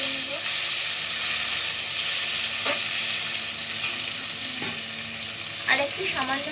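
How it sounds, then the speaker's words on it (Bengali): Onion and chopped tomato fry in a hot pan, a loud continuous sizzle and hiss with occasional scraping strokes of a spoon stirring, steady throughout with no talking. "পেঁয়াজ ভাজা হয়ে গেছে, এবার এটা টমেটো কুচি দেব,"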